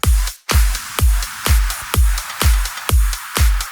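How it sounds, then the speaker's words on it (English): A drum loop with steady kick thumps about twice a second, topped by crisp, bright hi-hat ticks between beats; no voices. "Hi-hats."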